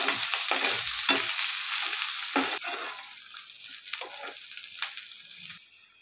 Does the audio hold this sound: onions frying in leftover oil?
yes